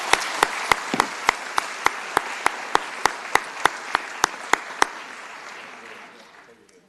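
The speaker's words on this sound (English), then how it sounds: "Round of applause, please." Applause from a city council meeting audience, steady many-handed clapping with a sharp rhythmic clap beating through it, fading out over the last two seconds.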